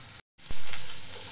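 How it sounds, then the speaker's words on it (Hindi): Garlic cloves, a green chili and ginger fry in a pan, a close, steady sizzle of hot oil that cuts out briefly, then returns with a soft clunk and continues hissing evenly. "अब मैं इसमें ये 4-5 कली लहसुन की डाली, एक हरी मिर्ची, आधे इंच अदरक"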